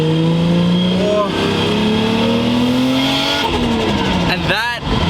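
A Toyota Supra engine, rebuilt after being broken, revs hard with rising and falling pitch sweeps, loud and close, while excited voices talk over it.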